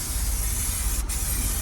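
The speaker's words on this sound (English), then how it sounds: "I'm just going to do a light coat" An aerosol can of SEM Classic Coat lays a light coat over the textured coating on a scratched GMC Acadia hatch. It makes a steady, loud, close hiss with one tiny break partway through.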